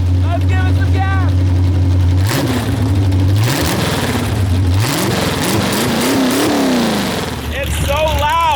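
A 1977 El Chromino with upsweep headers idles with a loud, lumpy rumble, then revs hard several times in rising and falling sweeps before settling back to idle, close and very loud.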